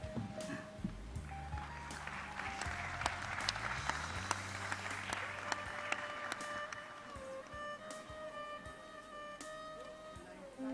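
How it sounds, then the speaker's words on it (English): Audience clapping at a panel event on India's soft power, a soft, distant patter of applause under steady background hum and tonal music-like notes. "I can see the claps out here."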